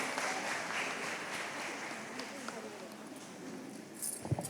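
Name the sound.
audience applause at a music school event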